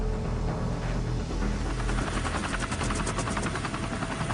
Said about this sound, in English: Chinook helicopters are drafted in to dump water from the air.